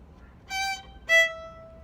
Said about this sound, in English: you have a dotted 8th note hooked to a 16th note, and it sounds like this.